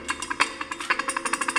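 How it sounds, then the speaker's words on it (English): A small ball-tipped metal punch is tapped against a metal part to form a seat before welding, giving a quick, steady series of sharp, close metallic taps with no talking. "I'm going to use this little punch here. It's kind of got a ball tip on it."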